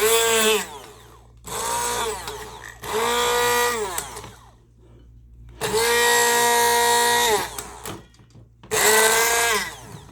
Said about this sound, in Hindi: अब क्योंकि मैं ग्राइंडर जो है ज़ोर ले रहा है